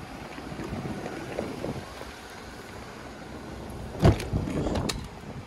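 Wind buffets the microphone inside an open-roof Jeep while riding, making a constant low roaring rush, with a sharper gust and thump near the end and no one speaking.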